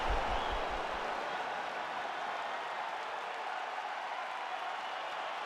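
A UFC 5 arena crowd applauds after a round, a broad wash of clapping and cheering that starts strongest and holds steady, with a commentator's voice faintly over it.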